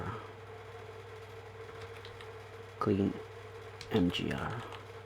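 Short bursts of typing on a computer keyboard while a command is entered, two quick clusters of key clicks over a steady hum of a fan.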